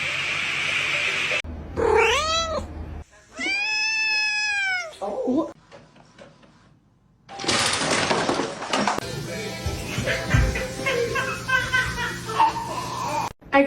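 A kitten meows and cries in several loud, drawn-out wails with pauses between them, followed by a stretch of busier sound that carries more cries and possible chuckling.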